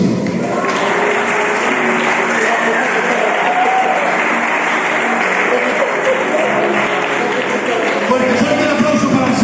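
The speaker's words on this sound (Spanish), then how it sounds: "Fuerte el aplauso para el Señor." A church congregation applauding, dense and loud continuous clapping and crowd noise filling the space, with voices mixed into the din.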